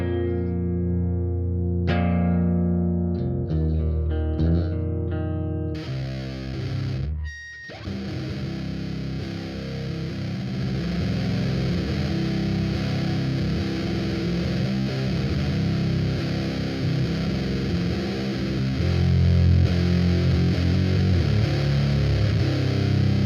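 An aluminium-neck guitar tuned to C standard plays heavy distorted chords through a DOD Grunge transistor amp, opening with a few struck notes, a brief drop, then sustained loud fuzzy riffing.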